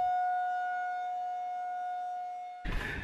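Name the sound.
tornado sirens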